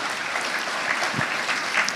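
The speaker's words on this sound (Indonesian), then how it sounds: "Yuk kita biar lebih semangat lagi dong, kasih tepuk tangan nih buat mereka." A church congregation applauds during a service, giving a steady, moderately distant patter of many hands clapping with no clear voices over it.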